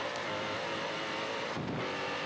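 Big trophy truck engine roaring flat out at the Finke Desert Race, a continuous loud in-car drone with rattling chassis noise and a brief surge near the end, no talking.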